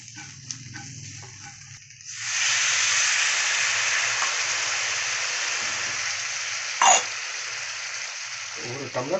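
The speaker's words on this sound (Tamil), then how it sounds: "பச்சை வாசனை போகிற அளவுக்கு நல்லா வதக்கி விட்டுக்கோங்க." Onion and masala sizzle and fry loudly in a hot pan for goat brain fry, a steady hiss that starts suddenly and continues with faint stirring clinks.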